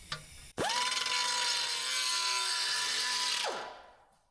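A burr bit spins up to a high steady whine and grinds metal on a 1969 Mustang fastback for about three seconds, then winds down; close and loud, with no voices.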